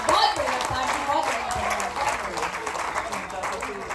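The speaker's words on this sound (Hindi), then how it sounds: "एक बार जोरदार तालियां बजाइए" An audience at a Hindi comic poetry show applauds, a broad wash of clapping heard under and alongside a man's continuing speech.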